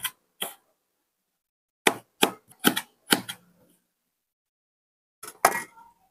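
Knife slicing onions and ginger lengthwise on a board for a Malaysian thick-gravy beef curry, heard as short sharp cutting taps in small clusters with long silent gaps between them.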